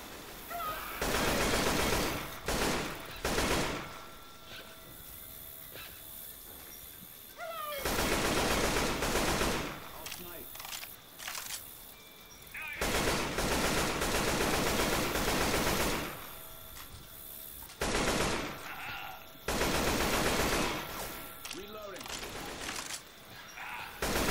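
Gunfire in the Left 4 Dead 2 Dark Carnival level: repeated loud bursts of shooting, some long and sustained, broken by short gaps, with players talking over the action.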